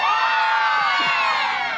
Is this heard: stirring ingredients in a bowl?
no